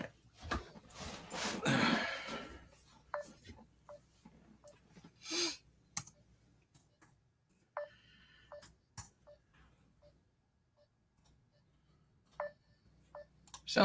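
A telephone being dialed to call someone back: a scattered series of short electronic keypad tones and light button clicks with quiet gaps between them, close and with no talking.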